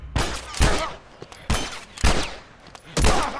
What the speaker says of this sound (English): Shooting in this game is freaking hard.